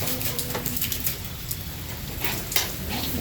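Rain falls steadily outdoors at a gathering for a political meet and greet, giving a soft, even hiss with scattered drips and a faint bird call near the start.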